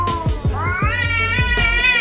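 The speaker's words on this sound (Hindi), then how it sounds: "यहाँ एक बिल्ली दूसरे बिल्ली को घूर रही थी और उसके ऊपर गुस्सा कर रही थी।" An angry cat yowls at another cat in a long, rising, wavering caterwaul, loud and close, with rhythmic low growling pulses underneath.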